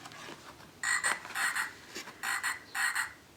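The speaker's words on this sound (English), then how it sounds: "Ribbit, ribbit, little frog, it's you." A frog in a rainforest gives four short bursts of croaking, close and clear, in a quick uneven rhythm over quiet background.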